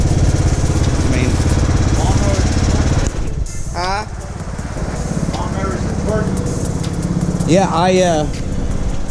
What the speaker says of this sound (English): I didn't think that lawnmower had it in it